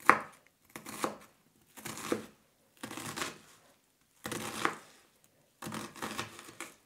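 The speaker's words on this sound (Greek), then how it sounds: "Ψιλοκόβουμε το κρεμμύδι." Knife finely chopping onion on a board while making a vegetable soup: six separate bursts of rapid, crisp cutting, close and distinct, with short silent pauses between them.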